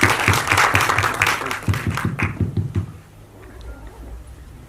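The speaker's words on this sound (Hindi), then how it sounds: "जोरदार तालियां होनी चाहिए फॉर कृतिक सर।" An audience at a film trailer launch event claps loudly as the director takes the stage, strong rhythmic clapping that fades out after about three seconds into quiet room tone.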